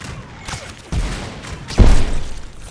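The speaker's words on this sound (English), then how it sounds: "Explosive bullet." Explosive bullets fire in the video game ROUNDS, with a few close, heavy booming bursts spaced under a second apart, the last one loudest, and no talking.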